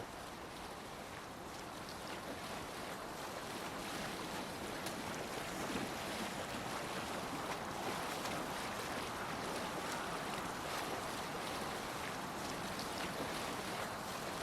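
A Viking longship in Assassin's Creed Valhalla sails over open water, with a steady broadband rush of waves and wind holding at an even level and no voices.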